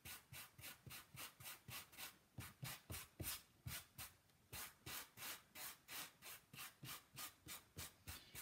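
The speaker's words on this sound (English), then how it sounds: "you grab your sanding block, and I've got an old, fine sanding block." Rhythmic back-and-forth scrubbing of a fine sanding block on a waxed, painted wooden board, quick even strokes at close range, with one short pause midway.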